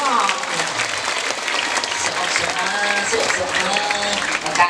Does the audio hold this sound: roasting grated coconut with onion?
no